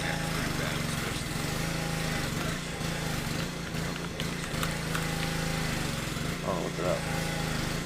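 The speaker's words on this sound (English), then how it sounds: "This fucking guy's mowing in my head again." A lawn mower engine drones steadily nearby throughout, a continuous loud motor hum with people talking over it.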